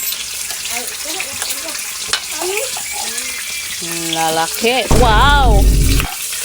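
Fish fries in hot cooking oil with a continuous, loud crackling sizzle, while excited voices talk and exclaim over it and a surge of louder noise comes near the end.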